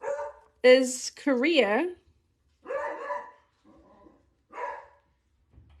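A dog barks close by in a few sharp, tonal, yelping bursts mixed with whines, while people talk in between the barks.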